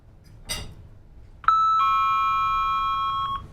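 A doorbell rings once with a bright sustained electronic chime that holds steady for about two seconds and then cuts off, loud and close, after a brief thump.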